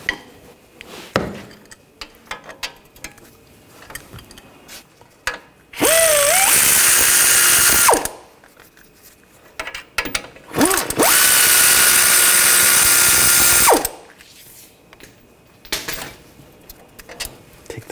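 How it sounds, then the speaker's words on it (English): A power impact tool on a 19mm socket loosens the brake caliper bracket bolts on a 2014-2020 Nissan Rogue. Two loud, close bursts of a few seconds each are separated by quieter clanks and handling noises. "You want to take the bracket bolts out. Use a 19mm socket."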